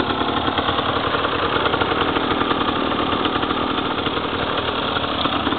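A KTM enduro motorcycle with carburetion trouble idles steadily during roadside race-assistance repairs, a loud, close, continuous chugging drone with a slightly uneven pulse and no voices.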